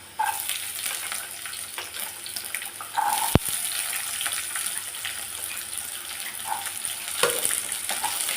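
Sliced onions hiss and sizzle steadily in an oiled pan for a dried-fish curry, with a constant close frying crackle and a sharp tap of a utensil partway through.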